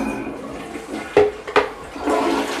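A toilet flushes away dirty water emptied from a Tineco Floor One S3 cordless wet-dry vacuum, with a couple of sharp clunks before a strong rushing swirl builds near the end, close and with no voices.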